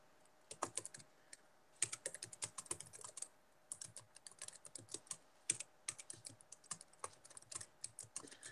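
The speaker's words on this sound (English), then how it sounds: "So I'm gonna go ahead and type" Steady typing on a computer keyboard, quick irregular bursts of key clicks with short pauses, fairly close and alone with no talking.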